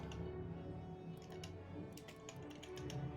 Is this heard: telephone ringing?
no